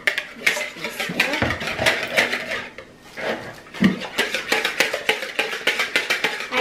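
Cheese, flour and breadcrumbs being mixed in a bowl produce rapid, rhythmic clinks and scrapes of a utensil against the bowl, pausing briefly once before resuming close and clear.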